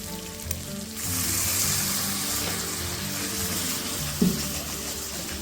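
A little water poured into Radhaballavi dough, a steady splashy trickle lasting a few seconds after a brief knock, followed by a small thump near the end.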